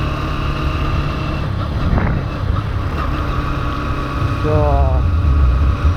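Motorbike ridden along a village road on a chilly day, its steady engine drone continuous with wind buffeting the microphone, someone talking over it throughout.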